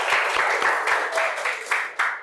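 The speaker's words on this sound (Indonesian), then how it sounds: "Ayo, tepuk tangan dulu untuk kita semua." Audience in a classroom session applauding together: dense crowd clapping falling into a rhythmic group beat, with several distinct pulses as the claps sync up, close and fairly loud throughout.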